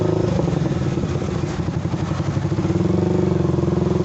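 A Yamaha R15 V3 motorcycle engine runs close by at a steady idle with a loud, throbbing rumble and light mechanical clatter that continues throughout, with no voices over it.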